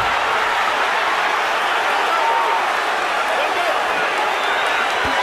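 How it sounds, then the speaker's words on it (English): Dense, steady roar of a large arena crowd cheering during a boxing bout between Ward and Kovalev, loud and continuous throughout with no break. "Crowd rocking and rolling."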